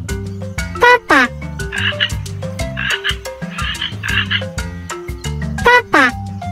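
A frog croaks loudly and close up in a run of repeated, pulsing calls, with a few rougher, buzzier croaks in between.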